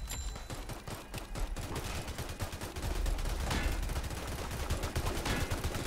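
Minigunner towers in Roblox Tower Defense fire a steady, rapid rattle of automatic gunfire at the Molten boss's minions. The stream runs continuously and grows denser midway, with no talk.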